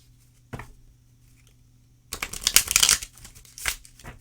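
A deck of cards being shuffled: a brief riffle, then a longer, louder burst of rapid fluttering card snaps, with quiet gaps between.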